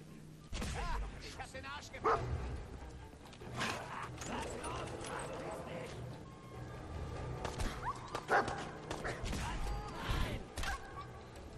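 A dog barks in the video game Fallout 4, several sharp yips and barks scattered through game noise and clopping footsteps, with someone talking over much of it.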